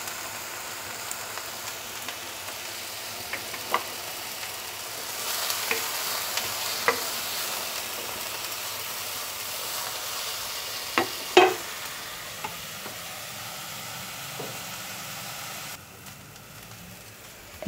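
Onions with garlic and a little salt fry in a pan, giving a soft, continuous sizzle broken by scattered stirring clicks and scrapes, one louder clatter near the end.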